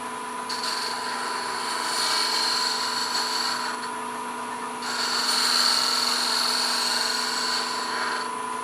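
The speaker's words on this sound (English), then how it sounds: "I'll show you a close-up of turning a bead with the point tool" A wood lathe spins steadily with a high, even whine while a point tool cuts a small bead close up, making two sustained scraping bursts of about three seconds each, separated by a short pause.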